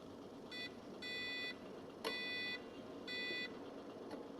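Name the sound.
espresso machine low water beeping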